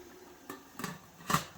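Eggs go into a steamer over boiling water in three distinct clicks and knocks spaced about half a second apart, close and moderately loud over a faint hiss.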